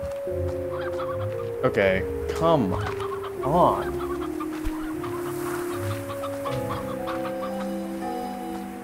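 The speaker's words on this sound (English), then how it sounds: "A whole bunch of chickens here, too." Chickens clucking and squawking in the video game Slime Rancher, several distinct bursts of calls over a steady musical backdrop, with a person speaking briefly.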